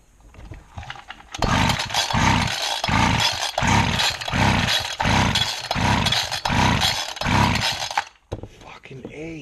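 A small Harbor Freight engine, choke open, is pulled into life and runs with a loud, pulsing rhythm of about ten even surges before cutting out abruptly near the end, followed by a brief, faint mechanical tail.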